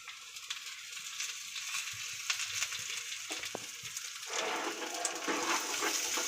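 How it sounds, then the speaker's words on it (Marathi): Onion frying in two spoons of oil for misal masala, a continuous crackling sizzle that swells louder partway through, close and alone without talk. "2 चमच तेल टाकून कांदा भाजून घेऊया."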